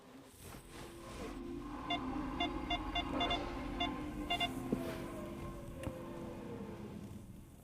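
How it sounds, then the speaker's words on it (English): 2025 Opel Frontera reversing in an underground parking lot, its electric warning system giving a series of faint, evenly spaced high beeps in short bursts over a low steady hum and room echo. "Yeah, that's what it sounds like in reverse."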